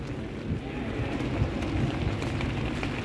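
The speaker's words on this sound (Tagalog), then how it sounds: "Continue walking, walking in the rain, walking, walking in the rain" Rain falls steadily on a wet street in traffic. A soft, even wash of noise runs close by with a low rumble underneath and no voices.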